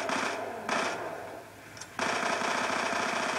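Burst-fire gun shooting in Call of Duty Black Ops 2 multiplayer, rapid rattling bursts of shots with short gaps between them, steady and moderately loud.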